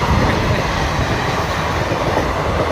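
A train rolls past close by, a loud, continuous rumbling roar of wheels and cars on the rails that stays steady for the whole stretch, with no voices.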